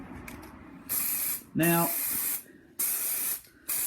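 Spray primer hisses from an aerosol can in three bursts of a second or so each, close and loud, with a brief spoken word and a quick rattle between the first two blasts.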